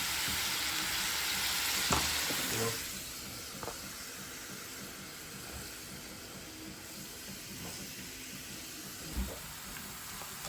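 Chopped onions go into hot oil for a small-fish curry and fry with a steady, close hiss and crackle, with a few soft clinks and stirring knocks.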